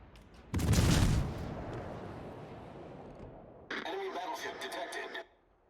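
A single deep, booming naval gun salvo from a ship in World of Warships, with a rumbling tail, followed by crackling distant impacts, all under a voice talking.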